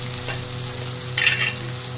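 Bay leaf and spices hitting hot oil for a Bengali kofta tempering, giving a steady close sizzle with a brief louder burst of frying partway through and no talking.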